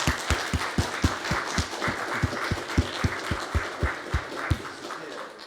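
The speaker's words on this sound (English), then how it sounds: "So perhaps you would join with me in applauding our moderator" An audience at an academic session on Byzantine presence between the Black Sea and Baltic claps for the moderator, a steady round of applause with distinct individual claps, moderately near.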